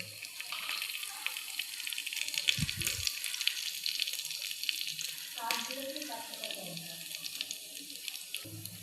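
Whole cumin seeds dropped into hot oil give a bright, crackly sizzle that runs steadily up close, with a couple of dull knocks and faint utensil clatter in between.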